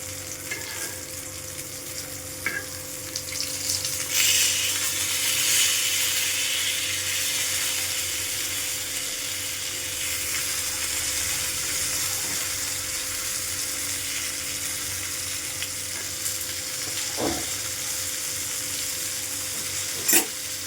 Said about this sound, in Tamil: தோசைக்கல்லில் போட்டாச்சு 2 மீனை எடுத்து